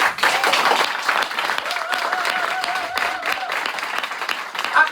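A church congregation applauds and cheers in praise of Jesus, a dense, steady wash of many hands clapping, with a voice carrying a wavering tone partway through.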